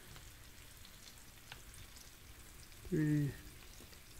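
Food frying in margarine, a faint steady crackle and sizzle in the background while a voice counts briefly.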